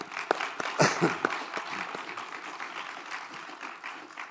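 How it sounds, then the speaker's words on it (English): An audience at an award interview event gives a round of applause, with a few sharp claps up front settling into a steady, moderate wash of clapping. "So please, round of applause for..."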